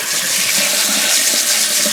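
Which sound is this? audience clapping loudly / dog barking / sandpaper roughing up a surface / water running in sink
water running in sink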